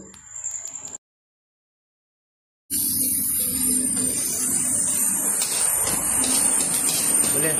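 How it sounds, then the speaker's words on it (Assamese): Fermented soybean akhuni hisses and spatters as it fries in hot oil. A short sizzle is followed by a silent gap, then a loud, continuous frying hiss. "ইয়াৰ পিছত আখনিখিনি অলপ সময়লৈ ৰঙাকৈ ভাজি লৈছোঁ।"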